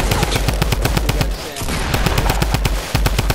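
Rapid automatic gunfire in the Fortnite video game, loud and close, rattles in dense bursts with a brief pause partway through, and a voice can be heard faintly beneath the shots.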